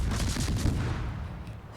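The USS Farragut's five main battery guns fire a loud salvo in World of Warships, a dense burst of booming shots that rolls off and fades over under two seconds.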